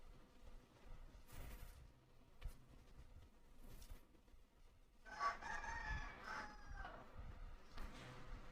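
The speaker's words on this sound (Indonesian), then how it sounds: "Sorry ya kalau misalkan kedengeran ayam, kan masih pagi men." A rooster crows in the early morning, one drawn-out cock-a-doodle-doo ringing from a short distance, with scattered clucks and faint background ambience before and after.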